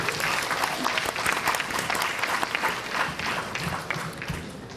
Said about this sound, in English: let's give our applause to Ms. Moira Garland and Robin Chang